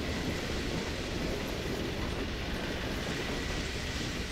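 Half-Life 2 train hauling capsules rumbles continuously inside the Citadel, a loud, dense and unbroken rolling noise with no talking.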